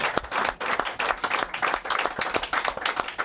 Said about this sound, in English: Let's give him a clap, mate.